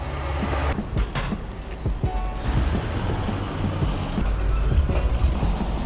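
A bicycle's pedals turn and its freewheel ratchets on a ride toward Orta Hisar in Cappadocia, a continuous mechanical clicking buried in heavy wind and road rumble, loud and close.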